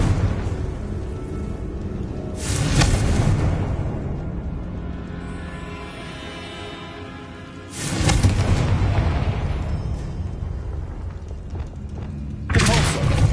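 Three heavy booms from Confringo fire spells in Hogwarts Legacy strike several seconds apart, each a loud, close, broadband blast with a rumbling tail that fades before the next one hits.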